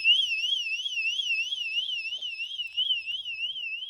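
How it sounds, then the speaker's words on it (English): An electric bike's anti-theft alarm on a Gugois GT-20 Ultra wails continuously in a fast, regular up-and-down siren pattern, loud and close, with no talking. "I just barely touched it, and the alarm went off."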